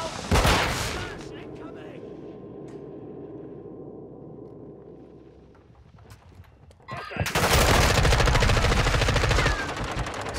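Heavy automatic gunfire in Modern Warfare 2, with a sharp burst at the start, then a quieter stretch of ambient battle noise before loud sustained firing erupts again near the end.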